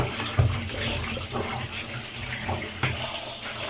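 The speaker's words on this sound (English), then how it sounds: "So you sieve it and then run it on cold water." Cold tap water runs steadily over cooked pasta in a sieve, a close, continuous splashing rush with a few heavier spatters and no voices.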